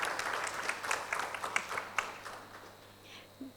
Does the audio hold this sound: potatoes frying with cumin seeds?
no